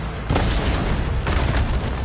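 Cannon fire from the Horizon Forbidden West video game: two loud, booming explosion bursts from shooting Ravager cannons, each rolling into a dense rumbling wash with no speech.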